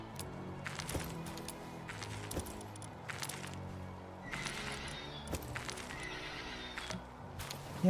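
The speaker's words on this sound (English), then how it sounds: "Good lord, these horses are noisy." Horse creatures in the Palworld game whinny again and again, several shrill neighs every second or two over soft hoof clip-clops, fairly quiet overall with a sharper sound at the very end.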